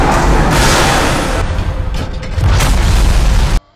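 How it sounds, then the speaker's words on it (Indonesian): A loud explosive boom from a car that crashed into a ravine erupts into a roaring, crackling blast that rumbles for a few seconds before cutting off abruptly. "mobil mereka ditabrak sebuah truk hingga jatuh ke jurang dan meledak."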